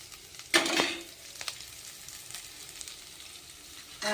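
Curry leaves drop into hot oil with a sharp burst of sizzling spatter, then settle into a quieter, steady frying crackle with a few light clinks of a utensil.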